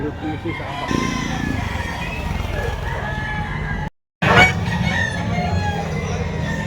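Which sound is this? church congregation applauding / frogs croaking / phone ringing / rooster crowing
rooster crowing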